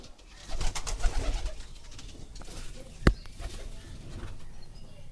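Pigeons at their nest, one sitting on eggs, with soft low cooing and rustling close by and a single sharp knock partway through; no talk.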